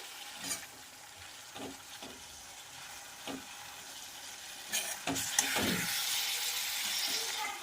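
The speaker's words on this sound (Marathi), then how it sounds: "दोन ते तीन मिनटं आपण छानपैकी याला फ्राय करून घेऊया" Shredded cabbage with green chillies fries in a pan, a quiet background sizzle with occasional scrapes and light clinks of a spoon, growing louder and hissier toward the end.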